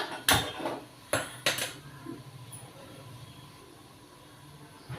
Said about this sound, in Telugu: ఈ పక్కనే పొయ్యి మీద వేరే కళాయి పెట్టుకుందాం